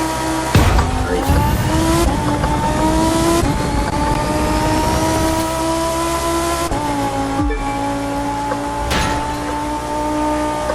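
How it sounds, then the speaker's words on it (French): Racing cars in a video game roar at high revs with sharp tire squeal and skidding, engines loud and close, rising and shifting pitch across several passes with brief gear changes. "Même le bruit des voitures"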